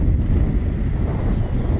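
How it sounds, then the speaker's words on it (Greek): Strong wind blows across a castle hilltop about 210 metres high, a loud continuous low roar buffeting the microphone with no voices. "Και γενικά φυσάει."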